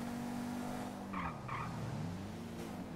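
Fiat Punto accelerating along a straight in the video game GTA V, a steady engine drone with rising harmonic tones and a brief tire-squeal burst midway, continuous and fairly close.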